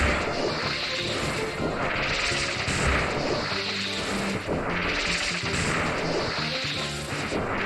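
Orbs fired by a boss in Kirby Triple Deluxe, heard as dense, loud bursts of crashing impacts over busy game music that pulse in two big swells.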